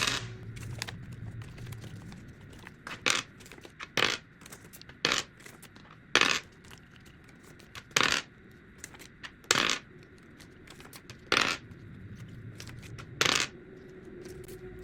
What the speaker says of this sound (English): That means I'm gonna roll the dice 9 times.